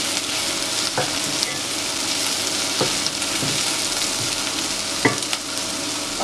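Capsicum frying in a pan for restaurant-style gobi manchurian gives a loud, steady hiss of sizzling, broken by a few sharp knocks and scrapes of stirring, with no talking.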